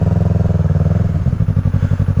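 A Yamaha R3 motorcycle fitted with an M4 exhaust idles loudly up close, a deep, pulsing burble of rapid even throbs with slight clatter.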